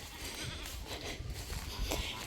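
Goats bleat on a farm amid a dense, rustling barnyard ambience, with short calls rising over steady close-up noise and no talking.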